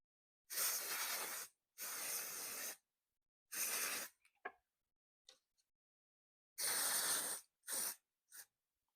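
Spray paint hisses onto a TT01e RC car body shell in steady, even bursts: three long passes, then a couple of short puffs, then another long pass and two quick spurts, close and loud with silent gaps between.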